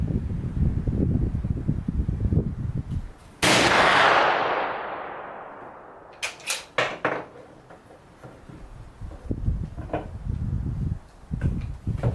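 A single sharp, loud rifle shot from an RTI Vetterli 10.4x47 firing a hand-loaded cartridge of hand-cast .429 soft lead bullet over RS Pyrodex, its blast trailing off in a long echo, followed by clinks and handling noises of the rifle.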